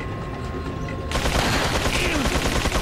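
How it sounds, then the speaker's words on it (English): Enemy gunfire in the Resident Evil 4 video game erupts as a loud, dense burst of rapid shots that starts abruptly partway through and continues to the end. "Wait till he's done shooting."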